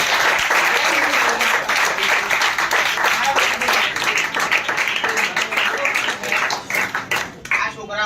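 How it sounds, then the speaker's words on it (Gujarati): Studio audience at a Gujarati board-exam toppers' event breaks into sustained applause, dense and loud throughout, fading slightly toward the end. "ચાલો તાળી"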